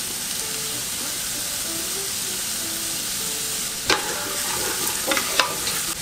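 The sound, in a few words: courgettes stirred and frying in oil for ratatouille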